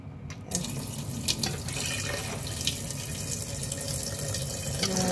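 Water pours steadily from a tap into a Staub pot, a continuous splashing rush with no talking.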